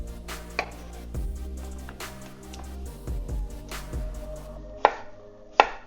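Knife roughly chopping cucumber on a cutting board in a quick series of crisp taps, with a couple of louder knocks near the end; no talking.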